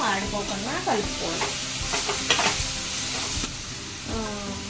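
Onions frying in a pan for tomato chutney, sizzling steadily while a spoon stirs and scrapes in repeated strokes, with a brief burst of louder hissing midway.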